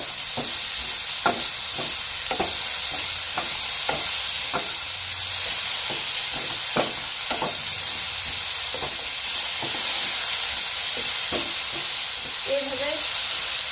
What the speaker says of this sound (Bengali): এইভাবে আলুগুলোকে ভেজে নিয়ে তারপর আবার আমি আসছি